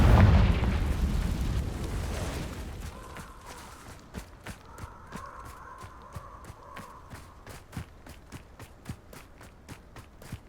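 A Confringo spell explosion in the video game Hogwarts Legacy, a loud booming blast at the start that rumbles and fades over a few seconds, followed by quieter scattered footsteps and thuds.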